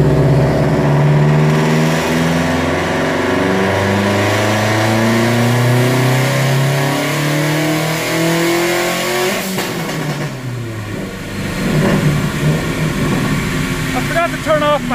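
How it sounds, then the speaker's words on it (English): A Subaru WRX engine on a dyno pulls through a long rev climb, its drone rising steadily in pitch. Then it drops off as the throttle closes, with a few popping burbles near the end. "This time we're in speed density mode."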